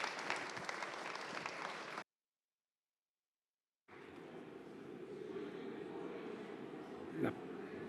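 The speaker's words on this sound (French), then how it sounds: "Je vous propose de l'applaudir." Conference audience at an energy-sector talk on the smart electricity grid transition applauding warmly for about two seconds; the sound then cuts out completely before a steadier, softer hall murmur of clapping and crowd noise returns.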